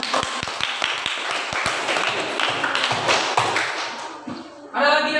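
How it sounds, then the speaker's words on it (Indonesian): A classroom of students claps hands, starting with a few sharp separate claps that swell into a brief burst of group clapping, followed by shuffling and scattered voices near the end. "Oke, tepuk tangan."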